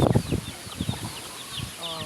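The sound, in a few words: chickens clucking and flapping wings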